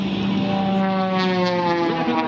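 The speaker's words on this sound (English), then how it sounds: "Watch him now as he comes down, falling this airplane out of the sky in these rapid snap rolls" Propeller aerobatic airplane performing rapid snap rolls while descending at the EAA AirVenture 2022 airshow in Oshkosh, Wisconsin; a steady, loud engine drone with shifting harmonic pitch holds throughout.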